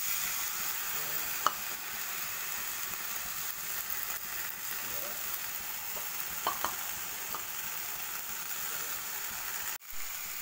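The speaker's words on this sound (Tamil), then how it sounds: "ஆனியன் நல்லா வதங்கட்டும். இந்த ஸ்டேஜில் வந்து கீரையும் போட்டுருங்க." Chopped onions and greens sautéing in a pan for kambu keerai adai, a soft steady sizzle with occasional quiet stirring scrapes and a sharp clack near the end, fairly faint and without talk.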